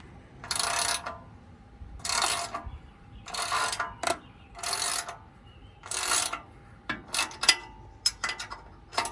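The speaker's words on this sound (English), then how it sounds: "all you need is your 9/16 wrench, and you tighten the bolt." A 9/16 wrench ratchets a bolt tight on the removable bed extension of a Norwood Lumber Pro HD36 sawmill, with short rasping strokes repeating roughly every second, then quicker clicks near the end, close and clear.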